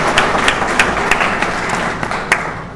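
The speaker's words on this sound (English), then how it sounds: "Go ahead and applaud." Audience applause bursts out for sponsors at a political summit welcome reception in Oregon, a short, dense patter of clapping with a few sharper claps standing out, fairly loud and close.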